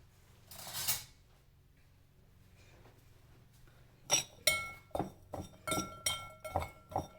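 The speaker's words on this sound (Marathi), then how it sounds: "आता हा जो मसाला करून घेतलाय ना, हा सगळा घालायचा. आणि छानपैकी ढवळून घ्यायचं" A spoon stirs spice mix into a turmeric pickle, ringing against the dish in a quick series of bright clinks. A softer scrape comes first, then a pause, and the clinks follow close and clear with no talking.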